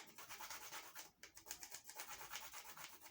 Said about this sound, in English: I'll just use this side of my grater.